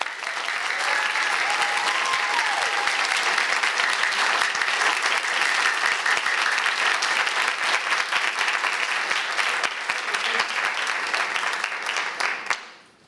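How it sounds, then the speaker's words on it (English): Sustained audience applause for ten presenters at a university graduate research competition, loud and dense for about twelve seconds before fading out at the end. "Let's give all 10 presenters a big round of applause."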